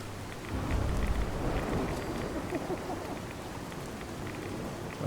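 Steady rain in the video game Fallout 4 pours down in a dense, continuous patter, with soft rumbling underneath and no voices.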